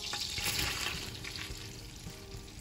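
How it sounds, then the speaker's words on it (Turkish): Diced dry onions sizzle in fully melted butter in a pan, a soft, steady crackle and hiss with faint stirring, heard close and without speech. "Tereyağımız tamamen eridikten sonra piyazlık doğranmış kuru soğanımızı ekliyoruz."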